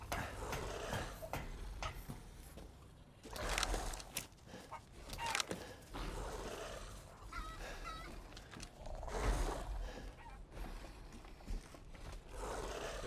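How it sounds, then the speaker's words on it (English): Chickens cluck and squawk in the video game Resident Evil Village, a faint, intermittent chorus of fowl calls over low ambient game sound, fairly distant. "I hear chickens."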